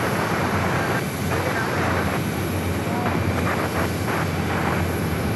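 A United airliner taxiing at Phoenix Sky Harbor airport gives off a steady, broadband jet engine roar from a fair distance that holds level throughout, with a low hum beneath it and faint voices now and then.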